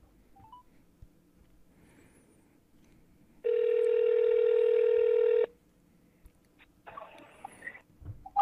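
Outgoing phone call ringback, a single steady electronic tone lasting about two seconds, followed by a shorter burst of ringing over quiet room noise.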